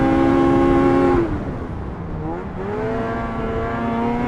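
A 2024 Arctic Cat ZR 600 ATAC Catalyst snowmobile races by close up, its two-stroke engine whining high, dropping in pitch as the throttle eases into a corner, then climbing again as it accelerates away.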